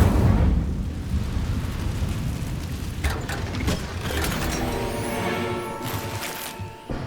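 The Incendio fire spell in Hogwarts Legacy erupts in a loud, roaring whoosh of flame that rumbles on, then gives way to sharper crackling bursts and fades toward the end.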